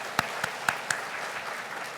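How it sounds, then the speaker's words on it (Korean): A Korean church congregation claps during a Sunday daytime worship service: a few sharp, separate claps open, then a faint, steady patter carries on at a distance. "하나님께 영광 박수를 올려드리겠습니다"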